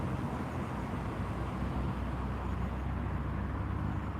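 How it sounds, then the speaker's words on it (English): Farm traffic passing on a nearby road beside a roundabout, a low steady engine rumble that holds evenly throughout, moderately distant and fairly quiet. "We've got farm traffic now as well."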